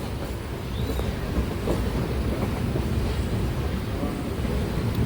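Steady low rumble of a crowded late-night local train from Sealdah running along the tracks, heard from inside, continuous and loud with faint rattling.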